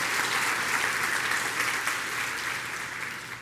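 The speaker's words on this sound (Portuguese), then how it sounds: "Pode dar uma salva de palmas ao Senhor e dar um glória aí" A church congregation claps together in a sustained, even burst of dense applause at moderate distance, tapering slightly toward the end.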